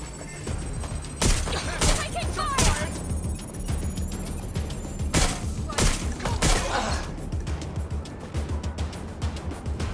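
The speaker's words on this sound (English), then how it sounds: "Gunfire!" Bursts of video game gunfire from Watch Dogs Legion crack out in an irregular series of sharp shots over a busy background rumble, with voices murmuring underneath.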